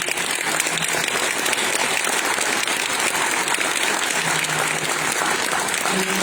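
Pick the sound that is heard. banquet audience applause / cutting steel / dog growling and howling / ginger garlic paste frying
banquet audience applause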